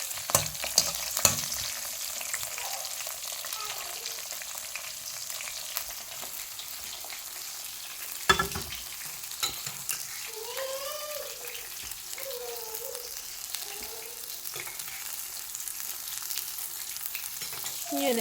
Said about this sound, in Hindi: इसी चम्मच से हम इनको भी हिला लेते हैं ज़रा सा।